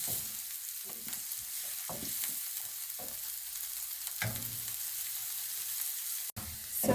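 Onions fry in a pan for creamed spinach, a continuous gentle sizzle with several soft scrapes of a spatula stirring them at irregular intervals, close and fairly quiet.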